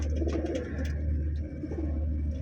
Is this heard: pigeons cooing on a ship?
yes